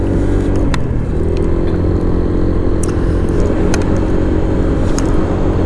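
Loud, steady engine roar from a motorcycle on a solo ride along the Marilaque highway, heard close from the rider's position with constant wind rush and a slight rise as it accelerates.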